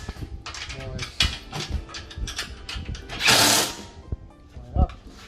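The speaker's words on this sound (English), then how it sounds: "it's just a normal 10mm spanner, 10mm spanner. Get over it on the inside." A 10mm spanner tightening nuts during assembly of a jet ski storage bin, close metallic clicks and ratcheting scrapes with a burst of rushing noise midway, and a voice speaking briefly.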